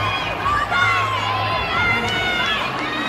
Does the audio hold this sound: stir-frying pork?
no